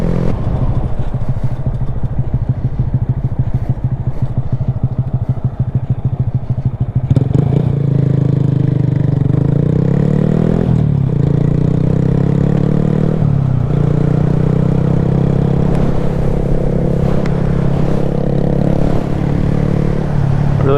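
Honda Grom small motorcycle riding on the road, its engine droning loud and steady throughout with shifts in pitch as it accelerates and a rattling clatter early on, no talk.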